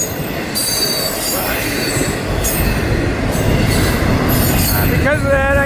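Long freight train on the FECR rolling past close by, a loud continuous roar of wagons with high metallic wheel squeals rising and falling throughout and a sharper screech near the end.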